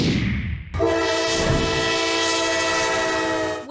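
A train horn blares loudly and steadily in Congers, New York, sustained for several seconds over the rumble of a passing train, cutting off near the end.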